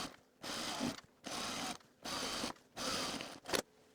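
Sewing machine stitching a seam on sweatpants, running in four short bursts of rapid whirring separated by brief pauses, close and clear with no talking.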